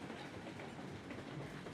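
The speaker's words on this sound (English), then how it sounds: "All right, so we're going to pull this train." A freight train in the railway game Railroads Online rolls along steadily, its wheels clacking over the track under a continuous rumble, with no voices.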